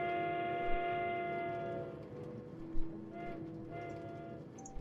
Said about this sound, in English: I really like this train.